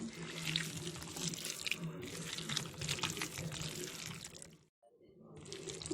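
Poha, curd and rice flour are mixed by hand with water into a batter for paddu. The result is continuous close, wet squishing and sloshing with one brief pause before the mixing resumes.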